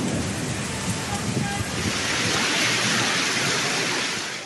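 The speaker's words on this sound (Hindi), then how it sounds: "इस्लामाबाद में शदीद बारिश और ज़ालाबारी ने तबाही मचा दी।" Heavy rain pours steadily in an Islamabad storm with hail, a dense, loud, continuous roar and hiss that swells slightly toward the end, with no voices.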